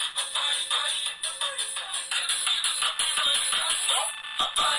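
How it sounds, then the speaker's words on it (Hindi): Song played through a Paytm sound box speaker over a Bluetooth connection from a phone, still fitted with its original speaker; thin, bright, bass-light music plays steadily and fairly loud throughout. "तो मैं इसमें सॉन्ग प्ले करके आपको सुना देता हूँ।"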